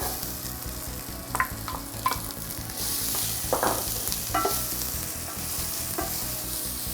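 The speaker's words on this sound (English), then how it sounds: "then we are going to add some chopped onion" Chopped onion sizzles and fries in a pan while being stirred, a steady crackling hiss with intermittent scraping strokes, cooking for a vegetarian Italian minestrone soup.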